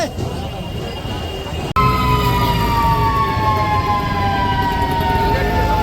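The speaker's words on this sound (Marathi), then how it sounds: "माऊलींचा सायरन झालेला आहे।" A siren wails at a Palkhi procession on the Pandharpur wari pilgrimage, starting abruptly and holding a loud, steady tone with slowly falling pitch over a busy outdoor crowd.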